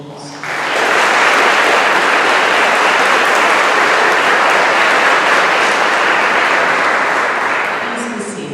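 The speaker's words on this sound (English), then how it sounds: "Please join me in a round of applause for these individuals" Loud, sustained applause from a large audience at a university graduation recognition ceremony honoring campus staff and faculty, swelling within half a second and holding steady for about eight seconds before easing slightly.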